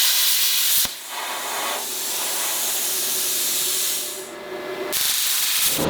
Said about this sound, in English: This is my second time using a plasma cutter